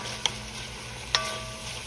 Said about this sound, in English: let me put my onions in here, because I like my onions to cook all the way through in here